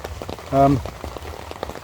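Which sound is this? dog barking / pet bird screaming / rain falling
rain falling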